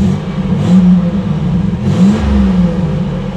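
A 1987 Buick Grand National engine idling close by, a steady mid-low hum that swells and dips slightly in pitch, with no talk over it.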